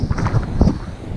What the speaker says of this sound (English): The wind just came up out of nowhere and it is just howling up the canyon.